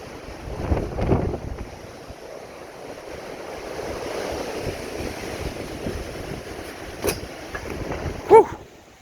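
Strong wind blows through trees outdoors, a continuous rushing roar with gusts and some buffeting on the microphone and a sharp knock near the end.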